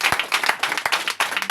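Applause from a church congregation, a burst of rapid, dense clapping that stays steady and fairly close throughout, with no voices clearly above it.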